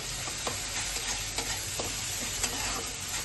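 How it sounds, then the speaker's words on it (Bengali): Ground cumin and coriander spices frying for a prawn and banana flower curry, a constant close sizzle with a rhythmic series of spatula scrapes and taps against the pan, without talking. "তো ভালোভাবে আমরা মশলাটাকে কষিয়ে নেবো,"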